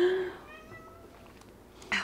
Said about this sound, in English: So there's my cat trying to chime in.